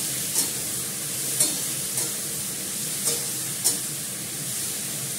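A spatula stirs fried vegetables (pumpkin, eggplant and pointed gourd) in a sizzling pan, with five crisp scrapes about a second apart over a steady frying hiss and no talking.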